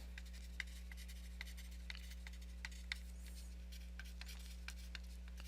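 Pen writing by hand on paper, faint scratchy strokes and light taps in short irregular bursts over a low steady electrical hum, no talk.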